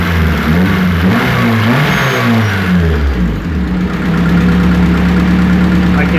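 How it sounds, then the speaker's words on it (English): Turbocharged Honda D16 engine in an EJ8 car, close and loud, revving up and down with rising and falling tones before settling into a steady high idle. "Now I can give this a little gas."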